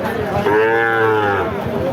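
A cow lows loudly at a busy cattle market where dairy cows and calves are being sold, one long drawn-out moo rising and falling over about a second amid a faint crowd murmur.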